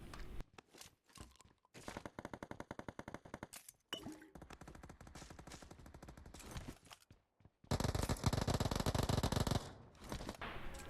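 Rapid automatic gunfire from a UMP submachine gun in the mobile shooter BGMI comes in several long sustained bursts separated by brief pauses, loud and dense, with the final bursts the heaviest.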